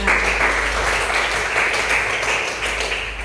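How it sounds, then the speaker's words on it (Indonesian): Students in a school religious-education classroom clap together in a short burst of steady, fairly loud applause with no talking. "tepuk tangan untuk kita semua."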